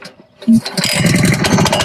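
A Honda engine on a SuperSplit log splitter is pull-started: a brief rattle of the pull cord, then the small engine catches and runs with a busy, buzzing chatter close by.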